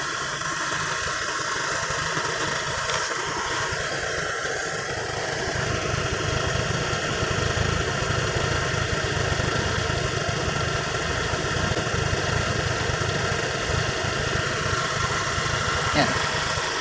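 Honda Click 125 scooter engine idling during a coolant change, a steady close-up mechanical hum and putter that holds even throughout, with someone speaking over it at times.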